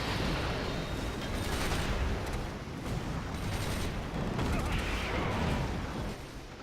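Rapid tank and infantry gunfire crackles through a World War II real-time strategy battle in Axis & Allies, with heavy tanks firing in dense, continuous bursts over a busy combat din.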